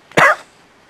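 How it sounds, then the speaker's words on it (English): A person gives one sharp, close cough, a single loud burst that quickly dies away into quiet. "I've still got a cough."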